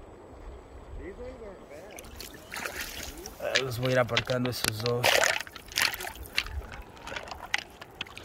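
A scenic river near Sacramento, California, flows with steady rushing and trickling water. Someone speaks Spanish over it, and the water noise swells louder midway through.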